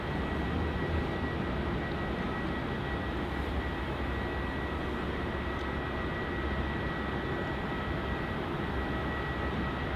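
A Virgin Australia jet climbs away from Melbourne Airport during heavy wet weather, its engines a loud, steady broadband roar with deep rumble that holds constant throughout.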